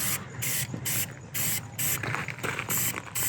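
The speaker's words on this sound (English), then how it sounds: "Child's first time spray painting his gun." An aerosol can hisses in a series of short and long sprays while spray painting a gun, loud and close, with brief pauses between each burst.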